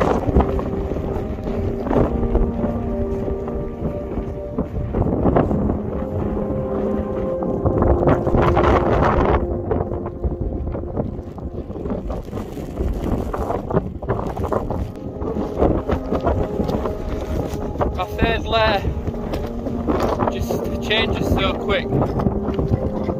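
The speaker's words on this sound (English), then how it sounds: "too windy and wet now." Strong gusting wind roars and buffets the microphone throughout on a foggy, wet mountain climb up Cadair Idris, loud and continuous, with rustling bursts and a few brief voices underneath.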